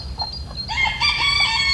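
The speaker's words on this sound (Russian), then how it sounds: "О, квахтуха встала с яиц." A hen on a farm clucks and calls in a series of short, nasal bursts after leaving her eggs, fairly close and clear over a low background hum.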